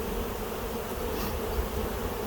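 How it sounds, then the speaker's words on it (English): Many honeybees buzz steadily around a healthy nuc hive, a dense, even drone of working bees that fills the whole moment without pause, close and fairly quiet. "So the bees look good and healthy. There's a lot of bees. They're working calmly"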